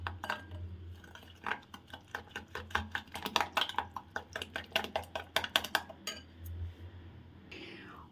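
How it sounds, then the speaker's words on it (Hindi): A spoon clinks and scrapes quietly against a bowl as a cup of sugar is mixed into a halwa batter, a rapid irregular series of faint taps and scrapes. "इसके अंदर डाल दूँगी 1 कप चीनी और अब इसको अच्छे से हम मिक्स कर लेंगे"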